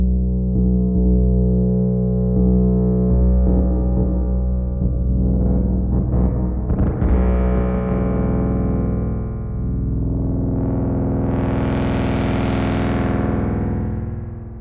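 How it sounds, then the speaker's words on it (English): Layered synth tracks pushed through a spring reverb, a sputtering, distorted electrical growl with crackling bursts midway, swelling at the end into a loud rising-and-falling whoosh. "there's kind of this like sputtering electrical sound that has a really cool effect"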